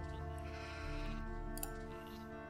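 A sheep bleats in the video game Gothic II at a farm, a drawn-out wavering call over a steady bed of game music, moderately close.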